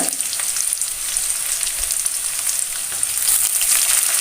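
Mustard seeds and chopped green chillies fry in hot oil, giving a loud, continuous crackling sizzle with no voices.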